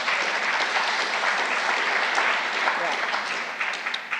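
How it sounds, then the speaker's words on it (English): An audience at a dialogue with Dr. Paul Ekman and Dr. Eve Ekman breaks into steady, full applause, a dense wash of clapping that holds for about four seconds and tapers slightly at the end. "and applaud."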